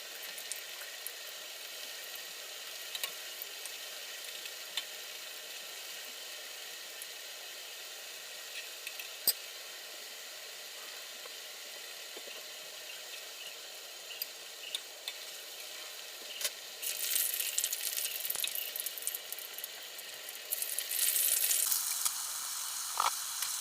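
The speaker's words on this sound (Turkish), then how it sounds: "kızdırdığımın yağın içinde hafif pembeleşinceye kadar kızartıyorum" Eggplant fries in hot oil, sizzling steadily and quietly throughout, with occasional crackles and a louder burst of frying and stirring near the end.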